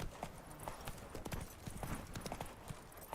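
Horse hooves clip-clop in the video game Witcher 3, a steady trotting rhythm of distinct hoofbeats heard fairly faint and continuous.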